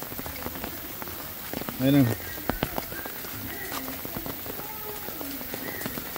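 Heavy rain pours steadily onto a grassy football pitch in El Salvador, a constant close hiss of drops while someone speaks briefly.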